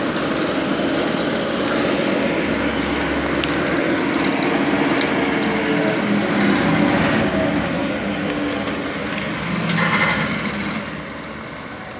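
A multipurpose chopper machine used to chop grass for animal feed runs steadily and loudly nearby, giving a continuous mechanical whine and rumble for the whole stretch with slight rises in load.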